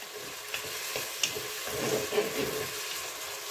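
Broccoli and mushrooms browning in a Cookeo multicooker give a soft, steady sizzle with a few faint stirring clicks, quiet and close.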